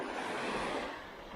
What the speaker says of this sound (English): watching the waves come up.